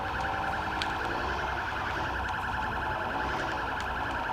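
Police car sirens wail continuously in the Sleeping Dogs video game, a steady looping electronic siren with engine and traffic noise beneath.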